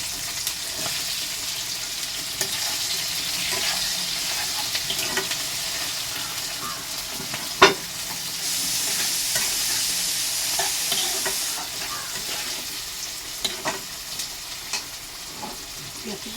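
Onions sizzle in a hot pan in a home kitchen, a steady hiss with scattered crackles and occasional clinks of a spoon stirring, fairly close and continuous with no talk.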